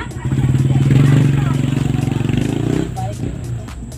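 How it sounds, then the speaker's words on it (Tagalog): Motorcycle on a coastal road, its mid-pitched engine puttering up close and loud for a couple of seconds, then fading away, with people talking nearby. "Dito may motor."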